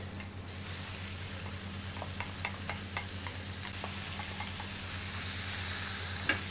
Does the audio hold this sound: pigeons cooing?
no